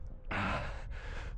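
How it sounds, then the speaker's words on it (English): Heavy, loud breathing from a runner just after finishing a 5k parkrun with a steep 15% gradient finish, a sharp gasp followed by long rushing breaths, close and alone. "as you can tell from my breathing"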